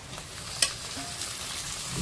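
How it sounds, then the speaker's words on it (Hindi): Chicken pieces dropped into spiced masala in a hot pan for chicken curry, giving a steady low sizzle with a brief clatter as they land, close and fairly quiet, no voices. "अभी इस पे हम चिकन डाल रहे हैं"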